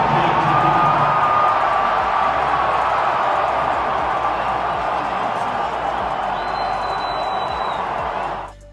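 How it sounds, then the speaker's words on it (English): A large crowd at a college football game in Alabama roars and cheers continuously, a loud, dense wall of voices and whoops with scattered shouts. "Trump was welcomed by a roaring crowd in Alabama"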